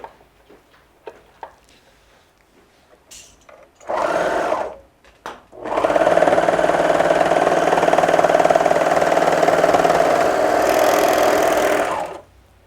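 A serger sewing machine runs steadily for several seconds, stitching through heavy fabric layers of a hanging travel laundry bag, after a short burst and pause; earlier the room is quiet with faint handling noises.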